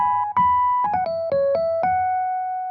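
A clean, sustained keyboard tone plays a short run of notes, each held and stepping downward, ending on a long ringing note.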